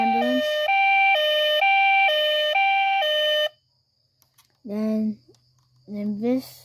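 A toy steering wheel's ambulance button plays an electronic two-tone siren that alternates high and low for several cycles, then cuts off, followed by a voice speaking briefly.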